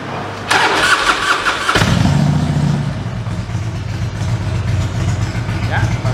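A Harley-Davidson motorcycle with a carburetor cranks on its electric starter and catches, settling into a loud, lumpy idle that runs on steadily to the end, with people talking over it.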